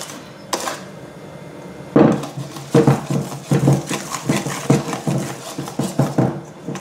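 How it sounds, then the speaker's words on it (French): A utensil scrapes and knocks against a bowl while pancake batter is stirred, a quick series of irregular clattering strokes close up, with no talking. "Je vais mélanger un peu pour ne pas avoir trop de grumeaux."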